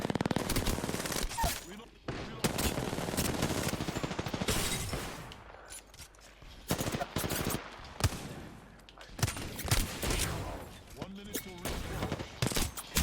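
Rapid automatic gunfire in Apex Legends, dense bursts and fusillades close up, stopping and starting across the stretch, with a player talking over the shooting.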